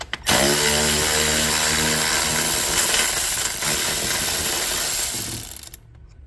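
A power tool spins out a 10mm bolt behind a Range Rover Sport HSE dashboard, one loud continuous whirring burst lasting about five seconds before cutting off, close up and without speech.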